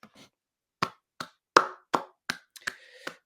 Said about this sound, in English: I don't know why I'm the only person giving a round of applause